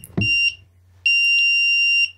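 Two electronic beeps from a Yongnuo YN-565EX TTL speedlite flash (Canon version), a short one and then a longer sustained tone, bright and close, with a soft knock just before the first.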